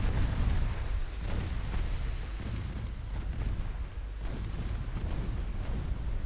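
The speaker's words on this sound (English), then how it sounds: "There we go, torpedo hits." Heavy booming blasts from torpedo hits on warships in a 1920s-era naval strategy game, a dense run of deep rumbling explosions rolling one after another with no talk.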